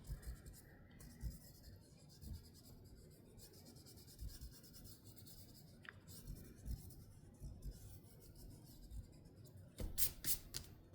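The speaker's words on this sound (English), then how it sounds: "I'm going to clean up these pencil lines a little bit first." Pencil lines on a polar bear face drawing are erased by hand, with faint intermittent rubbing and scrubbing strokes in short bursts, growing a little louder near the end in a quiet room.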